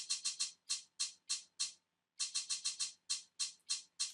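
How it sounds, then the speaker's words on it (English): A sharp, aggressive electronic hi-hat ticks in rapid bursts and steadier hits, pausing briefly before the punchy pattern resumes, alone and up front. "And the hat sound is more aggressive and it's more perfect for our beat."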